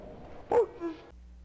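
A dog in the video game GTA 5 gives a short whimpering yelp, two quick rising cries close up, over a low game background hum.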